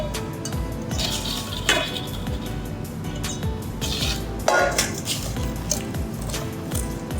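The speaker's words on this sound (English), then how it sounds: "Mix the flour" Flour is stirred into blueberry muffin batter in a bowl, a steady close squishing and scraping with occasional soft clinks of the utensil against the bowl.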